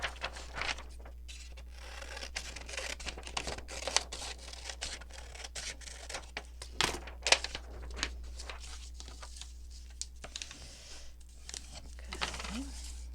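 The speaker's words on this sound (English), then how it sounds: "I'm going to just again just fold it up to reinforce the edges of my pocket" Paper is folded and creased to reinforce the edges of a junk journal pocket, giving close rustling, crinkling and sharp creasing taps over a low steady hum.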